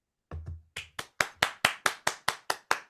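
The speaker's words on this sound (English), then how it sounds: "long-lasting applause" Sharp hand claps repeat in a steady, even rhythm, about ten crisp strikes close by, starting with a couple of softer, uneven ones before settling into a regular beat.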